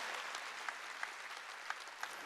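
Continuous applause from a church congregation at a Wednesday worship service, dense and even, with a few sharper claps standing out.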